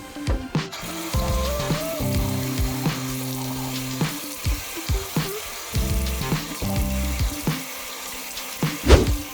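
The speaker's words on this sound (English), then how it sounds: "I'm just going to use warm water from the tap." Warm water runs from a household tap during a morning face-washing routine, a steady rushing flow with clinks and clatter around it. No one speaks.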